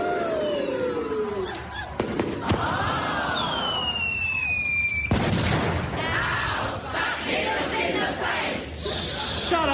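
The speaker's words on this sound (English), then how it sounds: "the fireworks that are randomly scattered inside it should go off any second." Fireworks go off: rising whistles and sharp bangs crackle over a noisy crowd, with voices shouting throughout.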